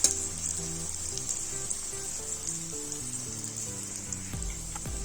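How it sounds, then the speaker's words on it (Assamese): Raisins sizzle in a pan, soaked in water beforehand so they puff up, with a steady bright frying hiss throughout and soft music running underneath; no voices. "কিচমিচখিনি আমাৰ ফ্ৰাই হৈ গৈছে"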